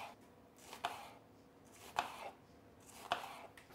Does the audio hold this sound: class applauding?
no